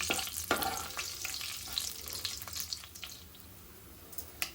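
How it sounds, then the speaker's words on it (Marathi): Bay leaf, cinnamon and cumin crackle in hot oil for an egg spinach curry, a soft, steady sizzle with scattered sharp pops close up. "आता फोडणी थोडी तडतडू द्यायची"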